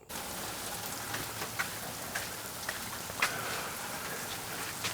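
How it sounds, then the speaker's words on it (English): Steady rain pours down on land around a tiny house as a dense broadband hiss, with a few louder individual drops tapping nearby at irregular moments. "We got a nice rain pouring out here."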